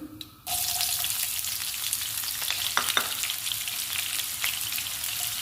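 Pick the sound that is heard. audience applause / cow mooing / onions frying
onions frying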